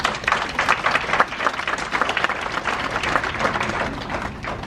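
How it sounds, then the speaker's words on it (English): A conference audience at a caregiving lecture in Montreal gives sustained, dense applause, with many hands clapping steadily at a moderate distance throughout. "Big round of applause, please."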